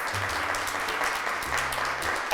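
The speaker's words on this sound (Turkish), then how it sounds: "Davulcu abimize bir alkış gönderiyoruz." A studio audience at a Turkish children's TV show claps for a drummer, a brief, even burst of applause with no talking over it.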